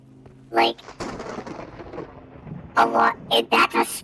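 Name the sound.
thunder from a storm in a video game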